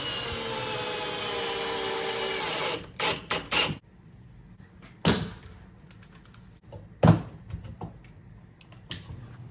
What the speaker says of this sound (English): Pre-drill, and here I show another option if you want to avoid a mess with sawdust.